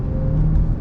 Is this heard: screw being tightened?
no